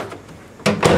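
An oven door swings shut as a small pan of chocolate peanut butter bars goes back in to bake, giving two close thumps about a quarter second apart after a quiet moment.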